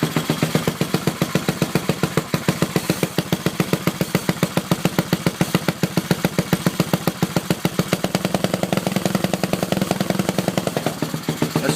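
A Whizzer motorbike engine idles on its own, close and loud, its steady rapid putter of exhaust pulses holding an even rhythm with slight irregular stumbles throughout.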